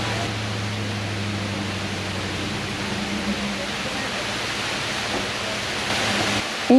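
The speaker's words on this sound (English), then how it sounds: "took us to another waterfall that I get to share with you" Roadside waterfall beside the Tongass Highway just outside Ketchikan, Alaska, pouring as a steady, broadband rush of falling water, close and constant, with a low hum underneath and a brief knock near the end.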